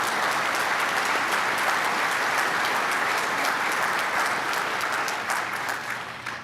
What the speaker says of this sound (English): Let's give these outstanding faculty and staff a round of applause